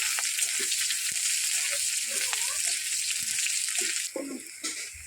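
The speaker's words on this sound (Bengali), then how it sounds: "কাঁচা লঙ্কা ও পেঁয়াজ কুচি দিয়ে দেবো তেলের উপরে।" Green chilli and chopped onion fry in hot oil in a pan, giving a loud, close, continuous sizzle with a few soft stirring knocks, steady from start to finish.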